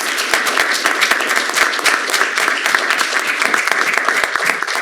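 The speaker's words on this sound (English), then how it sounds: "Can we please give them a round of thankful applause?" Sustained applause from an audience at a town council meeting, dense steady clapping from many hands continuing throughout without a break.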